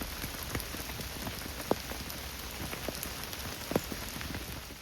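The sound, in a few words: heavy rain falling while fishing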